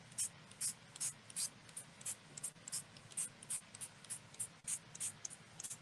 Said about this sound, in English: And now I'm going to go ahead and spray everything with water.